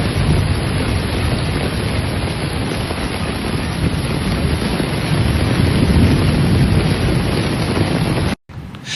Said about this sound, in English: torrential rains fell with a force rarely seen, even for the standards of Malaysia's humid tropical climate.